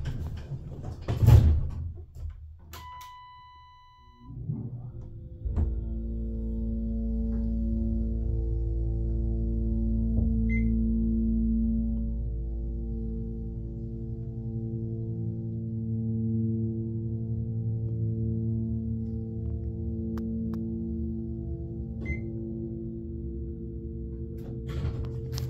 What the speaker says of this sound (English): That was a nice motor.